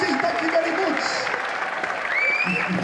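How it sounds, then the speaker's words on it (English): Audience applause for a performer named Rosie at a comedy-style stage show, steady clapping throughout with crowd noise and a voice speaking over it. "Big round of applause for Rosie"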